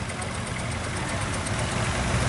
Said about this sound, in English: Little John Deere there, a Model L.